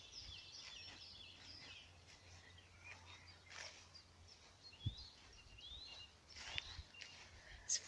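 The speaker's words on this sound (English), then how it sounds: "Just listening to all the birds chatting away." Birds chirp and call outdoors on a warm, calm, still day, scattered short tweets and trills at a moderate distance over a faint low hum, quiet overall.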